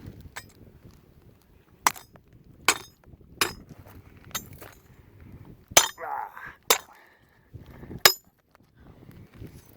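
A hammer strikes a gold-bearing quartz rock vein with sharp, ringing metallic cracks, about eight blows spaced a second or so apart. Faint scraping and rustling fill the gaps.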